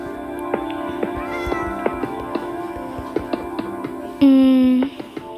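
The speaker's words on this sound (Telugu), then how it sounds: "సో అక్కడ క్యాట్స్ అయితే అరుస్తున్నాయి," Pet cats in a house meow repeatedly in short, close calls, ending with one loud, drawn-out meow; no one speaks.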